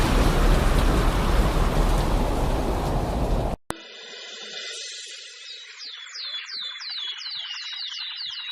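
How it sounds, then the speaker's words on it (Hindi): Heavy cartoon rain pours as a dense, loud hiss for several seconds, then cuts off abruptly with a crack, giving way to quieter ambience with repeated chirping calls. "भगवान, यह तो बहुत जोर की बारिश आ गई।"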